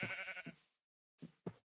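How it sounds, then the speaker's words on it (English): A sheep bleats in the Minecraft video game, three short wavering calls, loud and close, with a silent gap before the last two. "since when did the sheep make that noise?"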